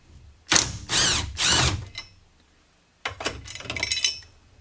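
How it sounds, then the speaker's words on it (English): A small 3/8-inch impact gun drives a 10 mm bolt on an R32 Skyline in two loud, close hammering bursts, the first a series of three rattling pulses and the second rougher, with a pause between them. "I'm going to use my new little 3/8 impact gun"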